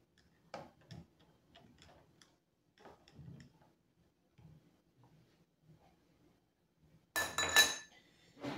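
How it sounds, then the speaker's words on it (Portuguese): A bar spoon swirls drink ingredients in a glass, giving a short, bright burst of clinking near the end after a stretch of quiet, faint low murmuring. "Bailarina para dar aquela mexidinha, ó, para misturar os ingredientes"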